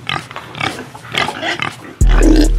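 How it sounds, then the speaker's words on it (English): Pig oinks play as a sound effect near the end, loud and sudden, right after a stretch of busy, lively sound. "Oink, oink."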